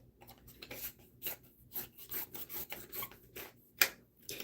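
Herb being ground by hand in a grinder, a rhythmic dry rasping and scraping in repeated twisting strokes, close and fairly quiet, with no talking.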